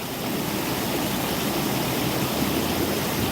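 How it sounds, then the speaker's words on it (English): Rainwater runs as waterfalls in a backyard after heavy rain, a steady loud broadband rush that holds constant throughout with no talk. "I got waterfalls in my backyard today."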